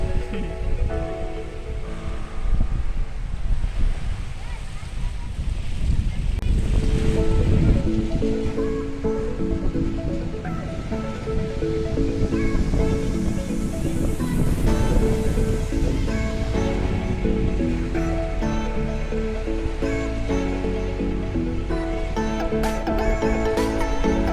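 Steady wash of sea surf fills the scene, a broad continuous roar with swelling surges, layered with busy tonal background sound throughout.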